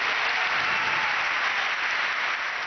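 A large audience applauds the Pope's speech, steady dense clapping that holds at an even, loud level throughout with no break.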